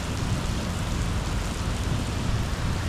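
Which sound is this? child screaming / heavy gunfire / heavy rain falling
heavy rain falling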